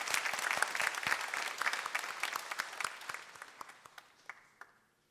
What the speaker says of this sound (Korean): 박수 소리가 다시 한번 큰 박수로 대종사님께